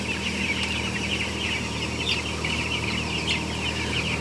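Broiler chickens cluck and chirp constantly inside a closed-house coop, a dense, busy chorus of many birds at mid distance, steady in level, with a low mechanical hum beneath and no talking.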